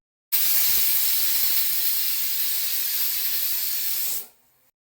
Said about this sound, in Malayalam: കുക്കർ അടച്ചു വെച്ചിട്ട് ഒരു 2 വിസിൽ വരുന്നവരെ കുക്ക് ചെയ്തെടുക്കാം.